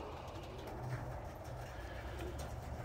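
Birmingham Roller pigeons cooing near a loft trap, soft low coos repeating under a faint outdoor background hum, quiet and somewhat distant.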